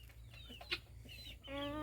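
A chicken clucks softly near a child trying to catch it, with a brief sharper cluck and a short high call near the end, fairly faint, with little talk.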